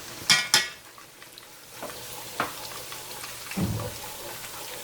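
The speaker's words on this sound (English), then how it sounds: "My gravy is cooking. You can see the oil is flipping around." Oil and masala gravy for chicken seekh kabob biryani cooking in a pot, a soft steady sizzle with a couple of sharp clatters of a spoon or pan early on and occasional light knocks, no talking.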